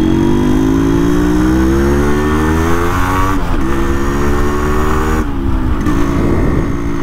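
Yamaha RX100 motorcycle fitted with a chamber exhaust revs loudly and close, its engine note climbing steadily, then dipping and rising again in repeated throttle blips.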